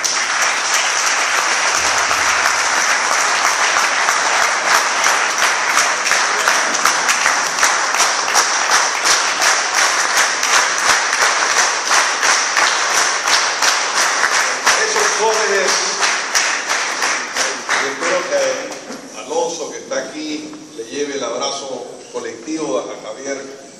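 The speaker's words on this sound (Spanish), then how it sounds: "un fuerte aplauso para Javier Arrolatini" A crowd at an Acción Popular political gathering breaks into loud, sustained applause with rapid, overlapping claps for most of the stretch, then the clapping thins and fades as a voice begins speaking over it.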